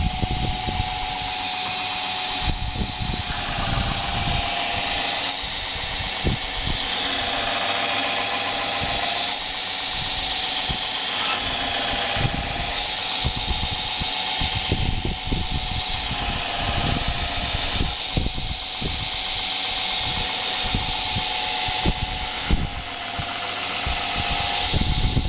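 A knife blade is ground on a belt grinder, giving a continuous high whine and rasping scrape with small shifts in pressure, close and steady, with no talk.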